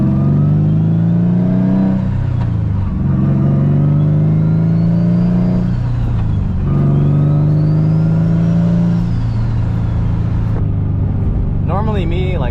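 Engine-swapped Nissan S15 revving loudly, rising and falling in repeated sweeps like gear changes under acceleration, with a voice speaking over it near the end.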